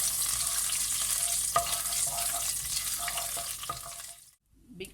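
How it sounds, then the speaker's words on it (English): Fennel seeds crackle and sizzle in hot oil as a spoon stirs them with a few distinct scrapes, the frying cutting off abruptly near the end before a faint clatter. "I took 1 tablespoon of fennel seeds. I'm going to add first half of it, and I'm going to fry this."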